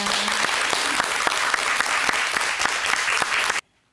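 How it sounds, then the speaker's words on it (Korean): A studio audience on a home shopping program applauds the housewives after a lesson on maesil plums, steady dense clapping held loud and close for over three seconds before cutting off abruptly. "우리 주부들에게 큰 박수 보내주셔야 됩니다"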